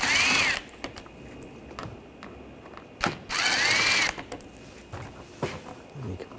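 Ratchet with a T20 socket backing out screws underneath a 2013-2022 Buick Encore with the 1.4L four-cylinder; short bursts of whirring, clicking tool action come in uneven spurts between pauses, fairly close.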